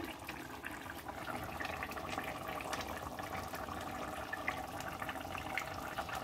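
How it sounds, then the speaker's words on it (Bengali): Egg and potato chop curry gravy at a rolling boil, a continuous bubbling, gurgling wash with small pops throughout, close and fairly quiet, no voices. "ঝোলটা ফুটে গেছে"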